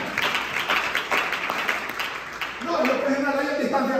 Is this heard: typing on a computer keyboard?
no